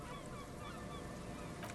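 Seagulls calling around an old, weathered stone-and-metal ruin in the video game Disco Elysium, a few faint cries over a dense, steady wash of ambient noise.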